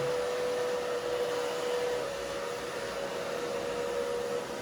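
A hair dryer running on low blows steadily while short hair is round brushed, a constant close whooshing hum with a thin whine, loud and unbroken, with no voices.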